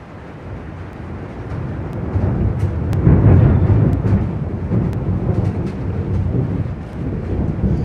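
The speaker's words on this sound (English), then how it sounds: "You have to talk real loud over the thunder so we can hear you." Low, sustained rumble of thunder in a severe thunderstorm, swelling louder through the middle and rolling on steadily without a break, with wind-like noise over it.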